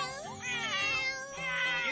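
Two cartoon cats from the Doraemon animated series meow in a sustained, bright, wavering exchange of close, loud, overlapping cries lasting about two seconds, with no talk over them.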